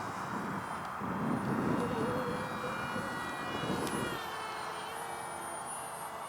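A scratch-built 1/32-scale SR-71 pusher-jet RC model in flight, a steady whining engine drone with a faint high tone that swells briefly and then holds level at a distance.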